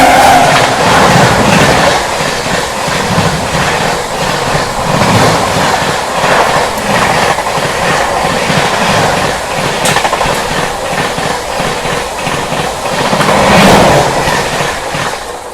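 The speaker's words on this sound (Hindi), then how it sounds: "सामने से आ रही है train number 12314 new Delhi शियाला down main line से फ्लैट 130 पे" Rajdhani Express 12314 from New Delhi running flat out at 130 on the down main line, a loud continuous roar with rhythmic clickety-clack of the wheels as the train passes close by.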